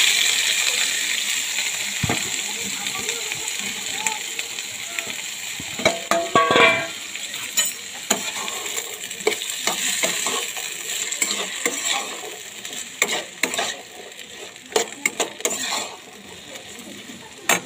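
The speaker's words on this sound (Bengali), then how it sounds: "আলু ভাজাটা কিন্তু সাদা সাদা আলু ভাজা হবে, তো আলুটা আমি দিয়ে দিচ্ছি" Potatoes fry in oil with whole cumin and green chillies in a pan, a steady sizzle broken by repeated scraping and clattering strokes of a spatula stirring them, close and without talk.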